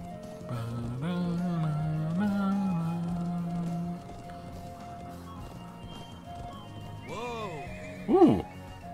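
A horse neighs and clops along in the Trails of Cold Steel video game, with a long whinny over music, then a quieter stretch and a sharp bump and sudden neigh near the end, while a person talks over it.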